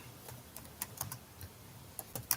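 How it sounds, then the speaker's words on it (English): Quiet, scattered clicks of typing on a computer keyboard in a room, irregular taps spaced across a couple of seconds with no talk. "So Bunny is typing something to someone."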